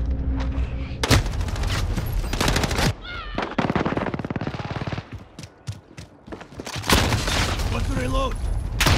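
Automatic gunfire in Call of Duty: Modern Warfare, loud bursts of rapid shots that come and go with brief pauses, mixed with voices and game sound effects.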